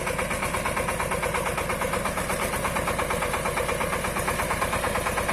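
A sprayer running on a Shifeng 240 mini tractor, its engine drumming in a steady, rapid knocking rhythm at close range, loud and unbroken with no voices.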